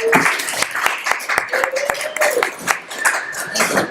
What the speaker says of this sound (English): everyone give Amelia Torres a round of applause.